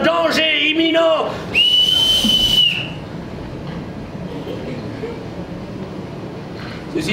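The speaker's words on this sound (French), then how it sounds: "Le sifflet de Moscou pour prévenir l'équipage d'un danger imminent." A whistle blown on a theatre stage as a warning of danger: one long, steady, piercing shrill blast held for over a second, loud and close, following a brief burst of other sound and then trailing into quiet room noise.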